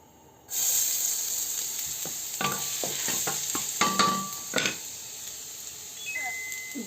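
Pancit noodles hit a hot pan and sizzle with a steady hiss, under scattered clinks and scrapes of stirring and a few faint beeps, with no talk.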